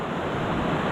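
Rushing river water flows beside a flat hiking trail, a dense steady wash of broadband noise that is loud and close, with gusty wind buffeting the microphone throughout.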